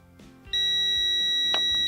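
A Tesmen multimeter on continuity test beeps with a steady, piercing tone lasting well over a second, loud and close, with light clicks and handling noise from probe contact around it.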